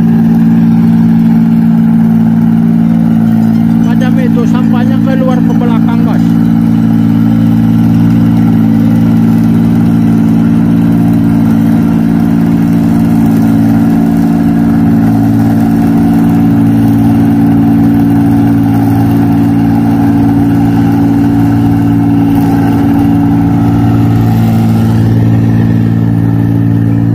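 A rice combine harvester's engine runs steadily while cutting paddy in a Malaysian field, a loud continuous low drone with mechanical clatter that holds near and constant throughout, with no talk.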